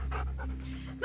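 Dogs pant in quick, breathy bursts close by, a short rhythmic huffing over a low steady hum.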